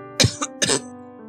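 Two rough, phlegmy throat-clearing coughs come close and loud in quick succession, each a short harsh burst.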